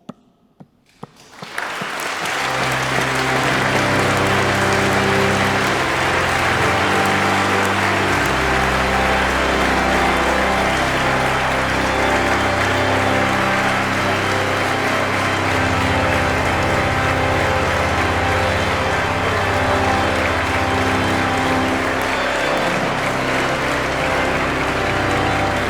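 Sustained, dense applause fills a hall at a church confirmation ceremony, rising quickly after a brief quiet start and holding steady and loud throughout, with a low rumbling undertone beneath the clapping.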